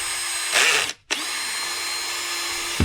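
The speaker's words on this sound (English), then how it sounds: "This is just drilling a hole through that handle, top handle part." A power drill bores a hole through the top handle part, whining loud and steady, briefly cutting out once before spinning up again and running on.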